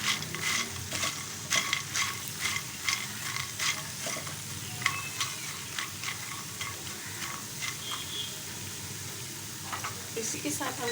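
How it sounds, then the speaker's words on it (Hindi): Makhana (fox nuts) roast in a pan over a low flame, giving a faint, steady sizzle broken by quick ticking scrapes and clicks as they are stirred, with a voice at times. "4 से 5 मिनट तक कुक करेंगे, बिल्कुल लो फ्लेम पे"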